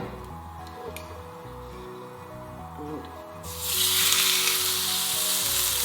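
Tuna steak hitting oil in a very hot pan, a sudden loud hiss of searing that bursts in midway and holds steady over a low background hum.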